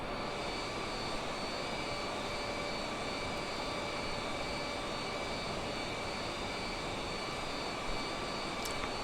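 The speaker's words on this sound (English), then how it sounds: "You can hear the plane." Boeing 787 jet engines hum in a flight simulator game, a steady broadband roar with faint tonal whine holding evenly throughout, with no voices.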